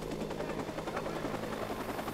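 A helicopter in the video game Watch Dogs gives a continuous close rotor thump with steady rhythmic chopping pulses over an engine drone, and no speech.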